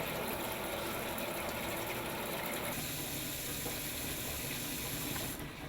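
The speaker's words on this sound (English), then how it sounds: "Then flush water lines for about 1 minute." Steady rush of water flushing through a kitchen faucet's pull-down spout hose into a sink at the full-on mixed position, a continuous close hiss that shifts in tone partway through.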